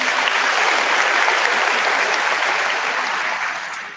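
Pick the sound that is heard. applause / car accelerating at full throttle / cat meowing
applause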